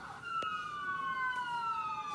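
Emergency siren played aloud in a classroom, a steady wailing tone gliding slowly downward with faint harmonics, loud and continuous for the whole stretch with no talking over it.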